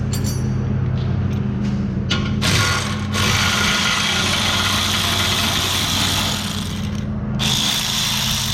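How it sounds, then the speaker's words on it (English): A neighbor's lawnmower engine drones steadily and loudly nearby with a constant low hum, joined by brief bursts of higher mechanical noise, with no talk over it. "And there's our lawnmower."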